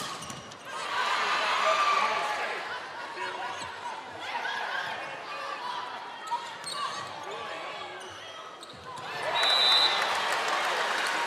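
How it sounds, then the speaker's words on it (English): A crowd applauds and cheers in a gym during a Nebraska vs Lipscomb NCAA women's college volleyball match as a senior player enters. The sustained applause swells again near the end, with some talk mixed in. "To a big applause from the crowd."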